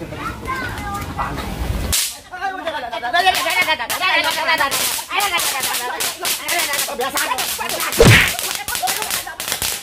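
Sharp, loud bangs crack out in quick succession amid excited chatter and shouting from children nearby.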